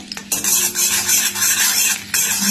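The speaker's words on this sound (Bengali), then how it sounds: "এবার আমি এর মধ্যে রসুন দিয়ে দিলাম, রসুন কুচি আর 2টো শুকনো লঙ্কা" Chopped garlic and two dried red chillies frying in melted ghee, giving a bright close sizzle that flares in bursts between clinks of a spoon against the pan.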